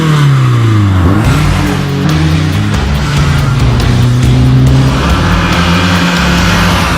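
Loud, close engine note of a BMW E30 M3 with a 2.5 motor, 48mm intakes and a rally exhaust, accelerating hard through a gear change and pulling on with a rising, raspy howl.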